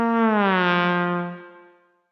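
A single sustained trombone note from the Lamb Chop Loves Music PC game, bright and brassy, held for over a second before tapering away smoothly, played alone without any speech.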